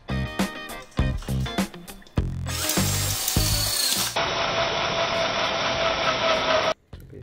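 Power drill with a magnetic bit driving screws into metal tubing for an outdoor sofa frame, sounding in short close bursts and then a longer, steady high whine that stops sharply.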